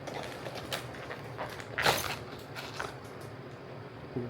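A LABUBU Have a Seat series collectible box being opened: soft creaks and small packaging clicks, with one sharper crinkling rustle near the middle, close up and quiet, no talking.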